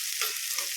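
Onions frying in a pan for an ukuma dish, a steady close hiss of sizzling oil across the whole short stretch with faint stirring scrapes.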